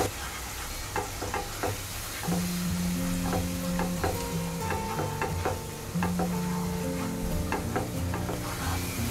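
Turmeric, coriander, red chili and cumin powders sizzle in oil in a pan for a pea and mushroom curry, under a loud, steady frying hiss with a spoon repeatedly scraping and stirring close by.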